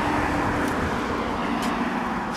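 Street traffic rolls past outdoors, a continuous close roar of vehicle engines and tyre noise with a couple of brief hissing swells, loud and steady with no voices.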